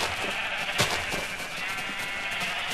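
Blocky sheep in Minecraft bleat in a short, sharp burst over a steady bed of game background noise, with no talking.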